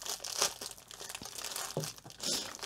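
A diamond painting package from AliExpress is torn open with quick crinkling rips and crackles of plastic, close up and fairly quiet, with no talk.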